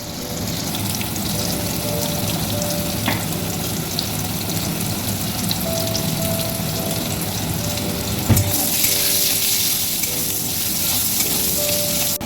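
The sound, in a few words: potatoes frying in mustard oil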